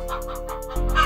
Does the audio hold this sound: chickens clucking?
yes